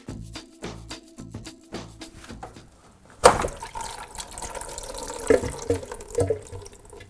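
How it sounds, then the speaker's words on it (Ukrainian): Quiet clicks and knocks give way to a sudden gurgling rush as air is drawn into an LG washing machine drain hose, followed by bubbling, sloshing water. "Звук, коли повітря заходило в шланг."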